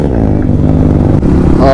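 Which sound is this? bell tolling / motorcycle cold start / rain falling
motorcycle cold start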